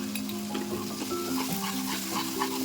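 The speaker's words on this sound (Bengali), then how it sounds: "মশলাটা তেলের মধ্যে ভুনা হয়ে গেছে" Spices sizzle in hot oil for a chicken roast, with cumin in the pan, a steady crackling fry broken by scraping stir strokes, close and fairly loud with no talking.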